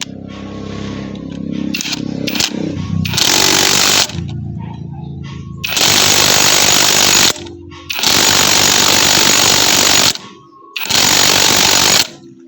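Loud bursts of an impact wrench hammer up close, first a few short stuttering blips, then several long sustained rattling runs separated by brief pauses.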